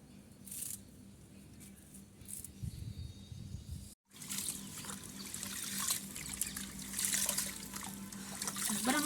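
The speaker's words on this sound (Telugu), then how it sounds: "ఇప్పుడు వేపాకు కరివేపాకు క్లీన్ చేసుకుందాం" Running water trickles and splashes as neem and curry leaves are rinsed and rubbed under it to wash off dirt, the splashing growing busier, with a brief silent gap midway.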